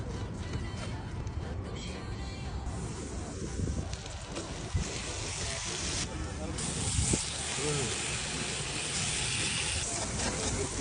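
Sauerkraut sizzles on a hot grill for a Reuben sandwich, giving a steady, close hiss and crackle that runs unbroken through the whole stretch with a few louder pops.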